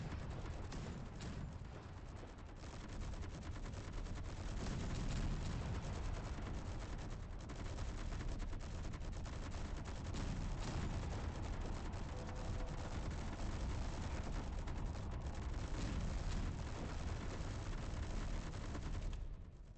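Loud, sustained barrage of rapid video-game gunfire from a heavy cannon-like weapon, dense bursts and blasts running continuously with no pauses and no talking.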